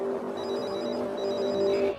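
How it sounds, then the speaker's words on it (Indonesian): A mobile phone ringtone plays a steady repeating electronic melody, held at moderate volume and heard alone. "Jilan menyetel nada dering di ponselnya"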